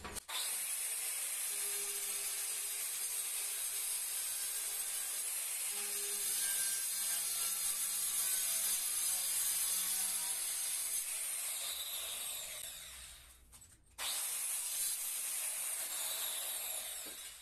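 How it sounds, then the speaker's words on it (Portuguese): A saw or cutting tool slicing steadily through wall cladding to make a window opening, a loud continuous rasping grind that runs for the whole stretch, dips briefly near the end, then resumes. "eu já vou cortar diretamente aqui, sem a guia"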